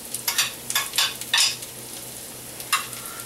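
Jalapenos and garlic roast in a pan, crackling close with a run of bursty spits and stirring scrapes, then a quieter stretch and one last burst.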